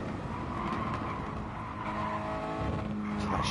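A Mazda touring car in a racing video game brakes hard into the chicane at Spa, its engine note dropping with a skidding tyre squeal, loud and continuous with no talk.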